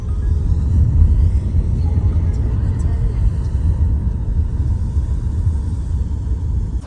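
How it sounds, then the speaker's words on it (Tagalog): Riding inside an Uber car in Cardiff, Wales, with a steady low engine and road rumble throughout and a few faint clicks above it. "ito na yung sasakyan naming Uber."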